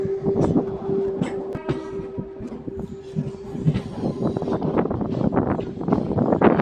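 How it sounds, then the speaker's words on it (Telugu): A MEMU passenger train pulls out of Falaknuma station, a moderate rolling rumble with clanks and rattles building as it moves off, and a brief steady tone early on. "మన ట్రైన్ వెళ్ళిపోతుంది ఫలక్నుమా నుంచి"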